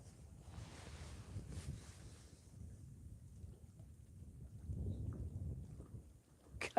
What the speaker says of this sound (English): God, this wind is awful. It's worse than it was earlier.